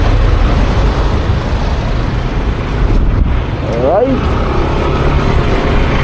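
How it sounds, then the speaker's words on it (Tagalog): Heavy road traffic on the C5 highway, a loud continuous roar of passing vehicles with a brief squeal, while a person says a word. "Grabe yung traffic."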